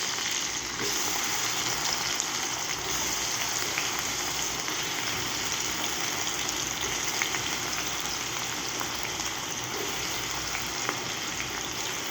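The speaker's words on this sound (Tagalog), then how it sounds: "Para mabango ang ating gisa-gisa. Ang ating kamatis." Tomatoes sauté in a hot pan for a chicken dish, giving a steady, dense sizzle and crackle close by that holds at an even level throughout, with occasional sharper pops.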